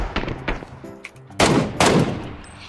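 Gunfire in a PUBG battle, a few scattered shots early followed by two loud, heavy close reports with ringing tails.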